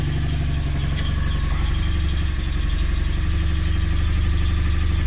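A small Invacar engine idles steadily while warming up after a cold start, a close, continuous low mechanical chug with a faint rhythmic knock and buzz running throughout, heard alone without speech.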